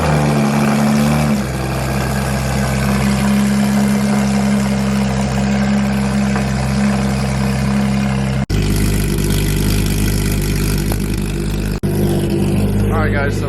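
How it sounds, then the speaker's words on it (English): Porsche GT3 RS fitted with a race exhaust idles loudly and close by, a deep steady drone with a few slight revs and two brief cuts, while people talk over it. "he put a race exhaust on it, so it's loud as fuck"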